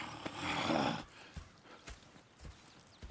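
Horse hooves in the video game Red Dead Redemption 2 sound briefly and fairly faintly as a few soft, separate clip-clop thuds, following a short burst of louder noise.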